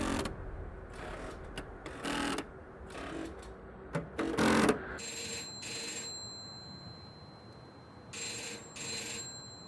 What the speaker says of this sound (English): a call came through to one of the kiosks, and it rang, and it rang